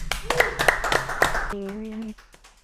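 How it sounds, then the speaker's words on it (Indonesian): Audience at a talk-show event clapping to welcome a guest, a sparse run of sharp handclaps up front that gives way to a short sustained musical tone, with no talk over it. "Berikan tepuk tangan."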